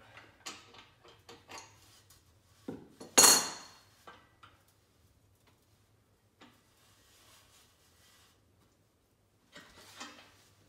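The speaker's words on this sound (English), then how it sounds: "use our bottom bracket fixed cup tool to tighten this up real good" A bottom bracket fixed cup tool tightens the cup into the frame of a vintage 1961 Gios Torino bicycle, giving sharp metallic clicks and clanks with one loud ringing knock, then quieter scattered taps and a final cluster.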